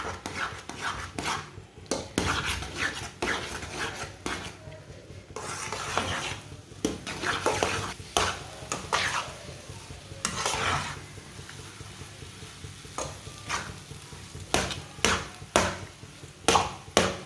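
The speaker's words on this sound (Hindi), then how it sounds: "ऐसे चम्मच चलाते हुए पकाना आप।" Egg and semolina halwa stirred with a spoon in a pot, repeated scraping and clinking strokes in an uneven rhythm over a low sizzle, close and clear with no talking.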